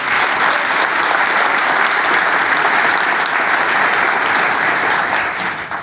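An audience at a Bandırmaspor football club meeting applauds its honorary club president, with loud, dense, sustained clapping throughout that tapers slightly at the very end.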